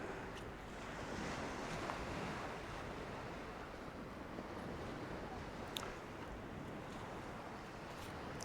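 Surf washing onto the beach at Overstrand, Norfolk as the tide goes out, a steady broadband rush with wind buffeting the microphone throughout, no voices.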